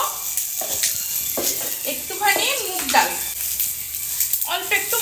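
Bay leaves and whole cumin seeds sizzle and crackle steadily in hot oil left from frying fish, a continuous hiss beneath a woman's speech, with occasional stirring clinks.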